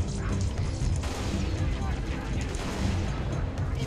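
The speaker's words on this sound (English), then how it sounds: "Yeah, it's the needle rifle." Needle rifle fire in the video game Halo: Reach, heard as dense, continuous bursts of shooting and booms within a noisy battle mix, with players talking over it.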